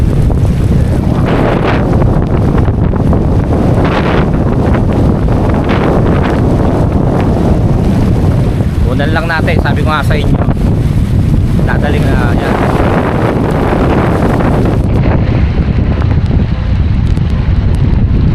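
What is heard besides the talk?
strong wind and heavy rain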